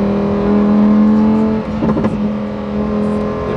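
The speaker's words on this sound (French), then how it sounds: "Des pétarades." Lamborghini Huracan STO with its stock exhaust, loud steady engine note near at hand, then a short burst of crackling pops and backfires in the middle as it comes off the throttle, no one talking.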